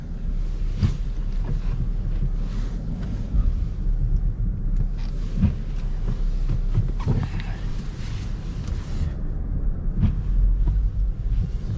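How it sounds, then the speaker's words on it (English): Strong wind buffets the microphone with a constant low roar and gusty rumbles, continuous throughout. "It doesn't help that it's very windy, right?"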